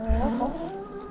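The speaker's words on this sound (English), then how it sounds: "Let's check on the chickens." Chickens cluck in a coop during a winter storm, several harmonic calls close by in the first half of the moment, then fading to softer clucks over a steady low background.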